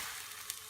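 A freshly flipped pancake sizzles in a pan as a brief, steady, faint frying hiss with a tiny pop.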